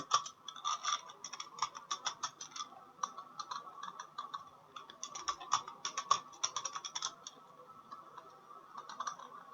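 Light, quick keystrokes on a computer keyboard as a word is typed into a file form, with a steady run of crisp, near ticks and small pauses, fairly quiet and without talk.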